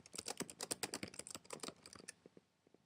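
Fast, quiet clatter of keys on a computer keyboard, a dense burst of keystrokes that slows to a few scattered taps before stopping, heard close with no talking.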